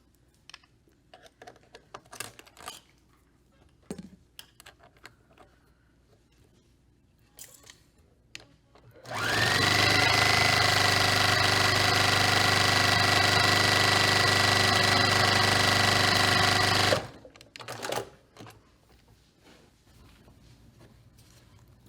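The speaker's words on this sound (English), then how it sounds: "I'm going to sew with a 1/4 inch seam." A sewing machine runs steadily for about eight seconds while stitching a quarter-inch quilting seam, a loud, close, continuous whirring drone, with quiet clicks and handling noises before and after it.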